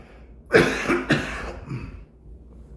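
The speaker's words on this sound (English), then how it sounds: "Excuse my cough." A person coughs twice in quick succession, loud and close, followed by a softer throat-clearing rasp, with no talk.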